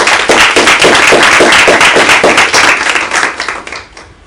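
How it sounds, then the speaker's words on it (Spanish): Audience clapping to welcome a guest at a Spanish-language community event, loud close rhythmic claps in a steady stream that thin out and fade toward the end. "Bienvenido, un aplauso para"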